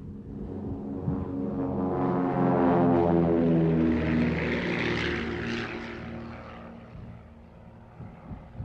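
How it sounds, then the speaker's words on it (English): A specially fitted light propeller aircraft used for cloud seeding passes overhead in flight, its engine drone swelling loud near the middle and fading away afterward. "Specially fitted light aircraft can be ready at short notice whenever conditions appear suitable."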